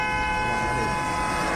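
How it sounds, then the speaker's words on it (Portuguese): A car horn jammed on after a crash blares as one continuous loud tone on a wet, foggy highway at a pileup scene, steady and unbroken throughout, with road and engine rumble beneath. "Esse carro aqui tinha batido e estava com a buzina disparada"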